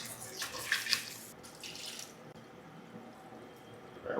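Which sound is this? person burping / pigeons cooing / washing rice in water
washing rice in water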